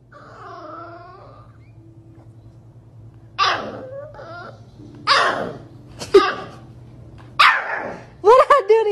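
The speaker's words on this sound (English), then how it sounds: "Why are you growling at me?" Up close, a dog growls low and then breaks into sharp, loud barks and yips in uneven bursts indoors.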